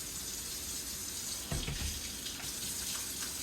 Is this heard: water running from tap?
yes